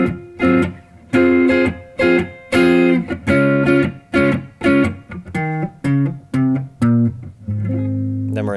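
Guitar playing the intro to a song, close and clear: a run of strummed and plucked chords, then a short single-note walk down.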